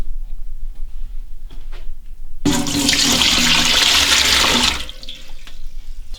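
Four cups of water poured into a pot while making dill pickles: a loud, splashing gush that starts suddenly, runs about two seconds and stops, with quiet kitchen noise before and after.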